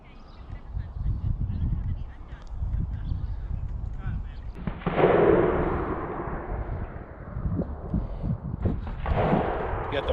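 Gunshots from a nearby rod and gun club carry across a river by a bridge as distant booming reports with long echoing tails, heard outdoors under a low rumbling background.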